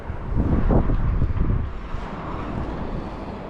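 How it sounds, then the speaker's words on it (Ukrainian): Heavy November gusts on the Helsinki shore buffet the microphone in a loud, rumbling roar that peaks early, then settles into a lower, continuous blustery rush. "зараз дикий вітер просто"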